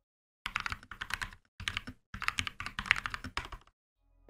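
Mechanical keyboard with Gateron Red switches being typed on in quick close bursts of clacking keystrokes, separated by short pauses, in a quiet room.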